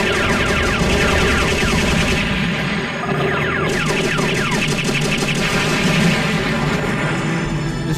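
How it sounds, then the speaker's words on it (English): Rapid bursts of anti-missile gunfire rattle in the Robotech: Battlecry video game, dense and continuous over engine drone and booming effects throughout. "That gun's for shooting down missiles, I think"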